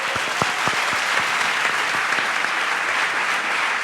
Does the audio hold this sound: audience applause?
yes